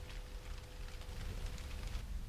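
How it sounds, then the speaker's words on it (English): Rain patters steadily on a 1970 VW camper bus outdoors, a soft continuous hiss with faint scattered drops over a low rumble, with no one talking. "But it's raining"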